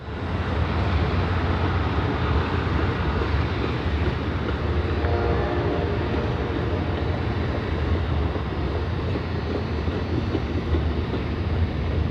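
An Amtrak GE P32-8BWH "Dash 8" diesel locomotive rumbles steadily and loudly in Indianapolis, its heavy engine drone mixed with the grind of rolling rail cars, continuous throughout.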